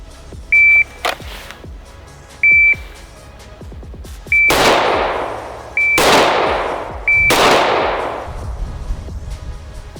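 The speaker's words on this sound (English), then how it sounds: "Every follow-up beep he's going to give me is going to be another shot." Short electronic beeps, then several loud, sharp gunshots at intervals, each cracking and echoing as a beep comes just before it.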